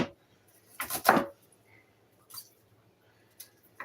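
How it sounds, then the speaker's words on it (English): A kitchen knife cuts through food one slice at a time: a close, crisp pair of slicing strokes, followed after a pause by two fainter, brief cuts against a quiet background. "I can just slice it the other way. Just one little slice at a time."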